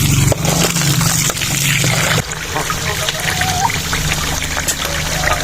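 Chest-cut mutton washed with water in a tub: running, splashing and trickling water close up, continuous throughout, with a voice speaking over it.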